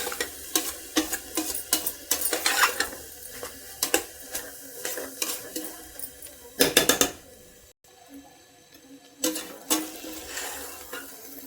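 Chili powder and turmeric fry in oil for a Mysore brinjal curry, giving a close, busy sizzle broken by frequent scraping stirs of a spoon against the pan, with one brief pause.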